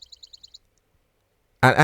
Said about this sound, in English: You can hear the birds tweeting in the trees.